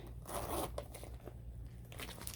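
A zipper with brass hardware on a Coach messenger bag is pulled open in a quick rasping stroke, followed by some light handling and rustling close by.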